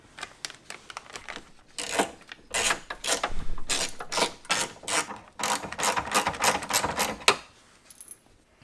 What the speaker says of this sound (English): Once you tighten up these bolts, you can feel that the mirror will come closer and closer